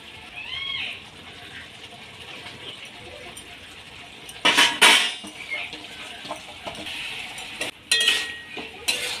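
Meat goes into a pot of cooked-down spice masala, with metal clinks and scraping clatters of a utensil against the cooking pot, a few sharp bursts standing out over a quiet background.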